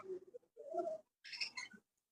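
Soft dove cooing in three short bursts, close by, with a brief pause between phrases.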